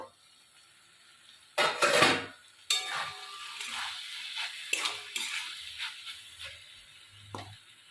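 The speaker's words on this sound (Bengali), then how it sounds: "তারপরে আমি খুলব ঢাকনাটা এবারে আমি খুলে দেখবো" A lid comes off a pan of okra cooking for an okra and prawn dish, bringing a burst of metallic clatter and handling knocks, then scattered utensil clinks and light sizzling close by; no talk.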